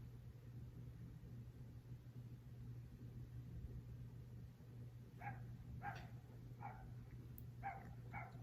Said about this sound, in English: There's a puppy outside.